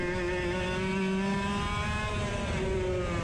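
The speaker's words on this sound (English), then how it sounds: "Can you hear how much we're working the throttle here?" Race car engine on a dry track, throttle worked in quick modulated pulses rather than held flat out, a loud steady in-car drone with shifting pitch throughout.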